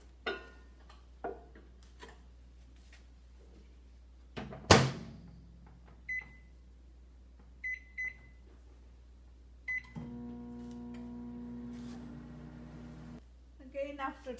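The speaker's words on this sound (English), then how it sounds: "And put it in the microwave again for 2 minutes." A microwave oven heating a khandvi batter of gram flour runs with a steady hum for a few seconds, after clicks and keypad beeps, with a door thud and more beeps around it.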